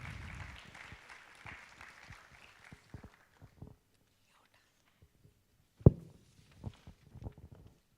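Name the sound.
audience applause welcoming the founder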